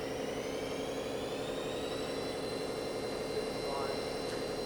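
A Haas vertical machining center spindle spins at high RPM, a steady close whine with rising tonal overtones as it speeds up, accompanied by a constant mechanical hum.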